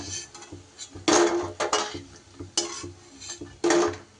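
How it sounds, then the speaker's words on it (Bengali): Fried fritters are lifted out of a wok of oil, heard as sharp metal clatters and scrapes of a utensil against the pan over a faint, low sizzle. "এবার এগুলোকে আমি কড়াই থেকে তুলে নেব।"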